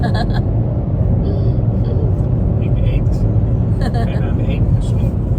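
A car drives through Gouda in the Netherlands, its engine and road noise making a loud, steady low rumble from inside the cabin, with voices faintly present.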